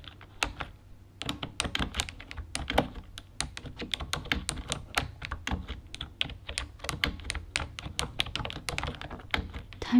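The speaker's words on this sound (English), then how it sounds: "Let me finish typing up this situation that I'm over." Typing on an orange computer keyboard, a close, quiet flurry of crisp key taps and thunks in uneven bursts with brief pauses.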